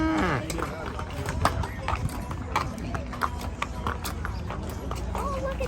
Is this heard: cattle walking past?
yes